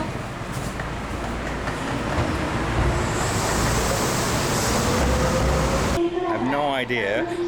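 A train passes through a station in Japan between Osaka and Kyoto as a loud, steady rumble with a rising whine. Near the end the train noise cuts to a quieter platform where people talk.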